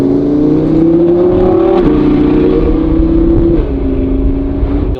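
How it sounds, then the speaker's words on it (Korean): An Audi R8 supercar's exhaust revving: a loud, close engine note that climbs in pitch, drops back, then rises again in a second shorter rev, with no talking. "하지만 그래도 이 배기음 어떻습니까?"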